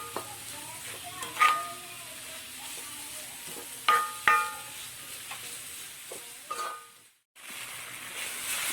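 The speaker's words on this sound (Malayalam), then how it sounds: "ഉള്ളി വഴന്ന് വരുന്നുണ്ട്." Onions sautéing in a pan for a chicken mulakittathu, giving a steady soft sizzle broken by a few sharp spoon clinks and scrapes, with a brief drop-out near the end and no talking.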